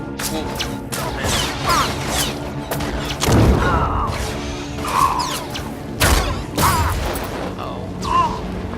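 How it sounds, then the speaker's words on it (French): Bomb explosions in the Star Wars: The Old Republic video game, a series of loud booming blasts and crashes with whooshing debris, layered with game effects and a voice talking over them. "Belle bombe."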